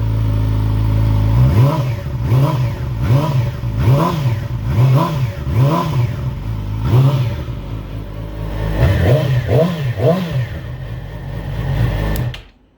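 A 2016 Yamaha YZF-R6 60th Anniversary sport bike engine revs repeatedly, about a dozen sharp rising-and-falling throttle blips in steady rhythm, loud and close, with no talking.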